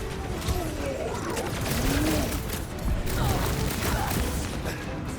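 Rapid gunfire in the Guardians of the Galaxy video game, a dense clattering stream of shots mixed with mechanical whirring and crashes, with voices talking over the action.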